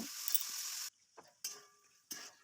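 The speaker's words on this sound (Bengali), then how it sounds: "এরপর আমি কেটে রাখা গাজর, আলু এর মধ্যে ভেজে নেব" Carrots and potatoes frying in a pan with panch phoron, bay leaf and dried and green chillies, a steady bright sizzle that breaks off into a few short bursts of crackle and stirring.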